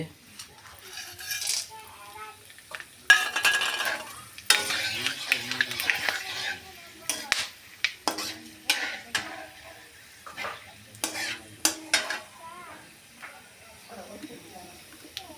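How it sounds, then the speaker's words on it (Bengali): Bay leaves, cinnamon, cloves, cardamom and mace go into hot oil for a home chicken curry, giving a low sizzle under repeated scraping and clattering of a utensil against the pan, in irregular bursts. "তেজপাতা, দারচিনি, লং, এলাইচি আর জয়িত্রী সব একসাথে ঢেলে দিচ্ছি।"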